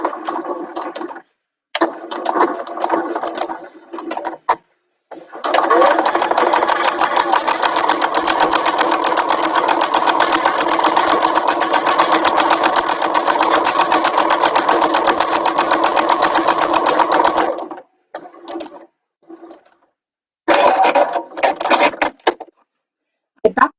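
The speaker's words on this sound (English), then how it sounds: "I back stitched at the top but not at the bottom" A sewing machine stitching a fabric bag seam, with short bursts, a long continuous run of rapid stitching and more quick bursts with backstitching toward the end, separated by silent pauses.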